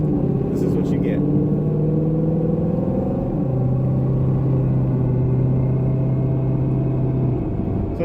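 A 4th-gen Camaro with an LS1 V8 cruises along, its steady low engine drone and road rumble holding continuous and close, with pitch shifting slightly partway through; no voices.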